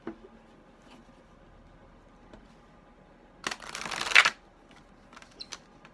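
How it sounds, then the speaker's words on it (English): Large tarot cards shuffled by hand, a short papery riffling burst after a few quiet seconds, close and fairly soft, with a few light taps and handling noises around it. "Doing my best to shuffle the big cards with my little fingers."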